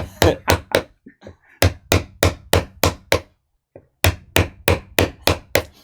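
Steady hammer blows striking in quick bursts of three or four, with short pauses between groups; loud and close, no voices.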